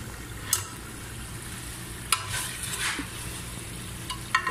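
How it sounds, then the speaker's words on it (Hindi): Mixed vegetables with garam masala stirred and fried in a pan, a steady sizzle broken by a few sharp spoon scrapes against the metal, with no talking. "इसको अच्छी तरह मिक्स करेंगे।"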